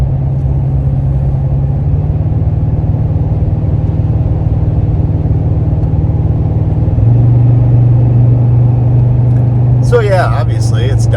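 A car engine drones steadily while climbing a hill, then drops into a lower gear partway through and holds a deeper, louder hum, with a brief scuffing burst near the end.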